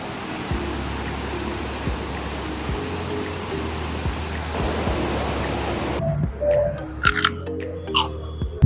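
Steady, broad rush of water at the Courtallam waterfall fills the first six seconds. The sound then drops out, leaving quieter sparse ambient noises and clicks.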